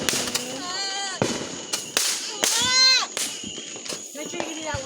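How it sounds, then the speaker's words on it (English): Fourth of July fireworks burst in a string of sharp, loud cracks and bangs with whistling rises between them, while people nearby talk and exclaim over the blasts. "This is the craziest fireworks show I've ever seen."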